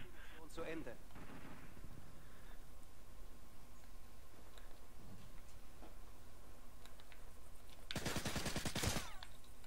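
Sporadic video game gunfire in Modern Warfare 2 on Xbox 360 crackles at low level, with a dense burst of rapid shots near the end, while players talk over it in German.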